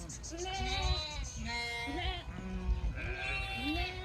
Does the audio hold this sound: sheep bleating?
yes